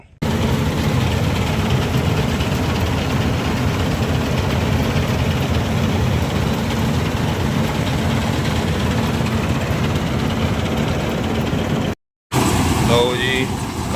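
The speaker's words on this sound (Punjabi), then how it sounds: "ਕੰਬਾਈਨ ਲੱਗੀ ਹੋਈ ਆ ਹਜੇ ਵੀ" A combine harvester's heavy engine drones steadily and loudly nearby during a rice harvest, then cuts out for a moment before resuming.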